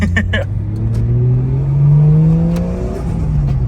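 A cold Toyota 1JZ turbo engine with an R154 gearbox revs and accelerates, its deep rising drone building up and holding loud and close, with a few brief clicks at the start.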